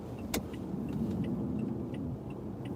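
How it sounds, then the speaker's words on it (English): Traffic moves through a Chicago snowstorm, heard from inside a car as a steady low road rumble. A sharp click comes early, followed by faint, regular ticking. "there's a lot of traffic coming"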